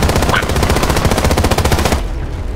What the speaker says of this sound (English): I just kept shooting